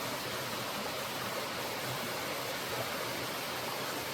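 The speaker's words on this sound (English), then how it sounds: "a waterfall. It's actually a mill," A waterfall at a mill pours steadily, a broad continuous rushing wash of water heard from nearby at moderate level, with no voices over it.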